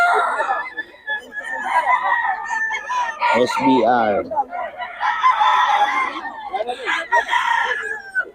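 Several roosters crow in overlapping calls close by, with hens clucking between them and someone talking over the noise.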